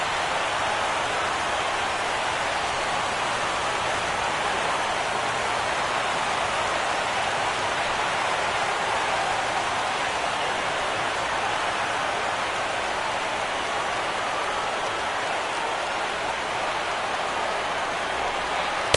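Steady, even rain falls at a baseball stadium during a 2017 White Sox playoff game, a constant broadband hiss with no breaks, filling the whole stretch at moderate loudness.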